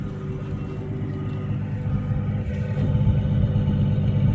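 A 1967 Rambler 199 engine with replaced exhaust gaskets idles with a steady, low, even rumble, running smoothly and continuously up close.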